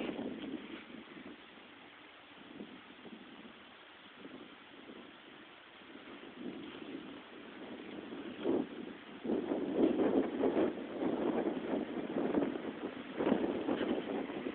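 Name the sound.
wind machine running among trees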